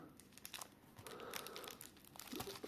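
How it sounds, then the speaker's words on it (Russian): Foil packaging around coins crinkles and rustles as it is handled up close, a soft continuous crackle with a few sharper crunches. "Дивіться, яка класна упаковка. Це якісь як, як фольга."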